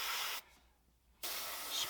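Airbrush spraying weathering paint onto an HO scale mechanical reefer car gives a steady broadband hiss, broken by a brief near-silent gap before the spray resumes.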